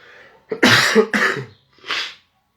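Three harsh coughs in quick succession, loud and close, with a short pause before the last, softer one.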